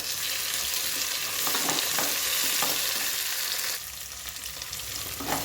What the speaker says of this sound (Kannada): ನಾವು ಮಾಮೂಲಿ ಬಿರಿಯಾನಿಗೆಲ್ಲ ಹೆಂಗೆ ರೋಸ್ಟ್ ಮಾಡ್ಕೊತೀವೋ ಆ ಥರ ರೋಸ್ಟ್ ಮಾಡ್ಕೋಬೇಕು